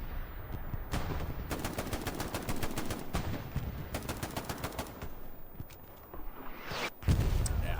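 Machine gun fire in Hell Let Loose during an Omaha tournament match, rapid rattling bursts of automatic shots, loud and sustained with short gaps and a heavier blast at the end.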